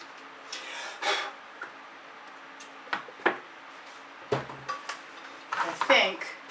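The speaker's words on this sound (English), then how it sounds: "I think I'm just going to grab my OXO omelet turning spatula." An OXO omelet turning spatula handled during fluid acrylic paint pouring, giving scattered clinks and scraping knocks against cups and surfaces, fairly close and moderately loud, with short pauses between contacts.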